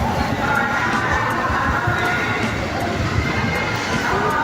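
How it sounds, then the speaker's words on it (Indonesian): Steady rumble of railway ambience at Cikarang station, a train running close by with a continuous low drone, faint rhythmic wheel clicks and mixed background noise throughout. "Ini kondisi stasiun Cikarang"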